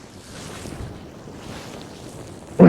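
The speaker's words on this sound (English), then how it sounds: "This is windy and cold." Cold wind blowing in steady gusts while sea fishing in snow, a low rushing roar with some microphone buffeting, ending in a sudden loud thump.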